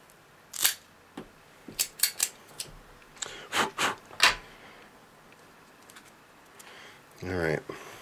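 Cutting and lighting a Mursuli Green robusto cigar outdoors at night gives a series of sharp snips and clicks, then a brief rushing lighter flare, with a voice faintly present.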